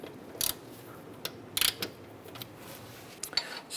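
A bolt is snugged down on a wheel bearing during work on a 2008-2012 Honda Accord: a few short ratchet clicks and metallic turns in separate bursts, close up over a quiet background.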